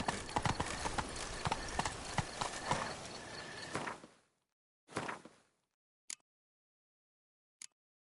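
Horse hooves galloping in The Witcher 3, a dense rapid clip-clop for about four seconds, then stopping, followed by a shorter burst and two isolated sharp taps, with no talking.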